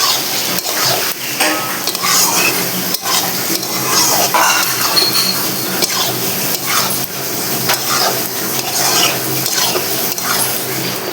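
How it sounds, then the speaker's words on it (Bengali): Sesame and poppy seed paste sautés in a pan for a Bengali egg and potato curry, softly sizzling while a utensil scrapes and clacks against the pan in irregular strokes, close up with no talk. "এটা দিয়ে 2-4 মিনিটের মতো আমাকে কষাতে হবে"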